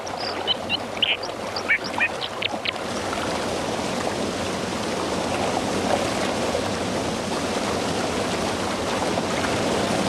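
Loud, steady rush of waterfall water fills the scene, with a few short bird calls or quacks near the start before the continuous roar carries on alone.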